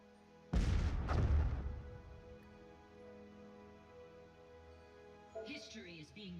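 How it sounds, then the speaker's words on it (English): Planetary bombardment in the space strategy game Master of Orion: two heavy booming blasts close together, then a long fading rumble under a sustained tonal hum, with a brief chirpy effect near the end. "And they are bombarding my planet."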